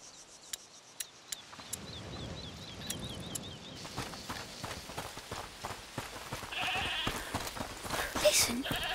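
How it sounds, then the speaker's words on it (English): In the video game A Plague Tale Requiem, a goat bleats among a string of sharp clicks, followed by shuffling, hoof-like clops and rustling movement at moderate loudness. "Listen. Is that the goat he talked about?"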